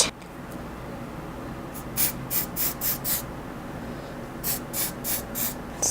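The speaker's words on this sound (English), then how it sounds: "hold can 6 to 8 inches away from face, apply light pressure on the nozzle" Luminizer setting spray misted from an aerosol can onto a face: two sets of short hissy bursts, four to five quick puffs each, separated by a pause, close and fairly soft.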